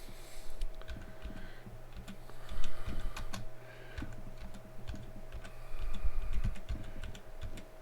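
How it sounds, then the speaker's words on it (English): Rapid clacking of a computer keyboard, fairly close and steady, with bursts of faster keystrokes over a low background hum. "I'll type in Intel processors and let's see what we come up with."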